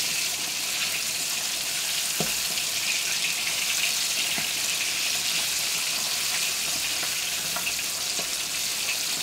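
A flatfish fillet pan-frying in oil, giving a steady, loud, continuous sizzle with a few faint clicks and no voices.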